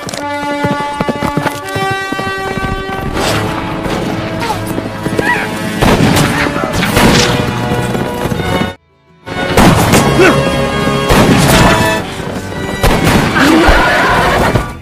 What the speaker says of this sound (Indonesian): Kemudian adu tembak pun dimulai.